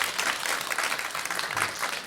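Congregation applauding during a Sunday afternoon church Bible-study service, steady dense clapping that fills the room at full level throughout with no pauses.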